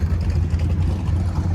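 A 1988 Ford F-150 pickup with about 50,000 miles pulls away from a midweek cruise-in car show in Leonardtown, Maryland, its engine giving a loud, steady, low rumble throughout.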